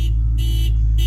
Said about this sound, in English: I set off the car alarm starting my car.